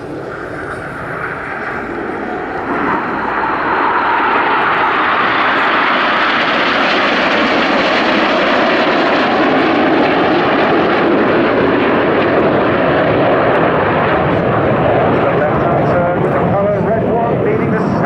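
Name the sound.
Red Arrows jet aircraft flying past at air display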